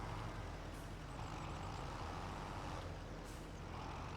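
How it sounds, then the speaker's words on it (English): A truck in Farming Simulator 25 reverses to tip a load of straw, its engine a steady low drone with a faint air-brake hiss, no voices over it. "Let's back in here and let's dump some of this straw."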